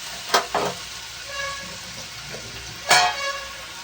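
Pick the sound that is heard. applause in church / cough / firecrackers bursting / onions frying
onions frying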